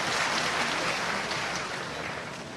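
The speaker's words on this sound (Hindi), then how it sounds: "ताली बजाते हो।" A crowd applauds at a political election rally, producing a loud, dense, continuous roar of many hands clapping that stays steady across the whole stretch.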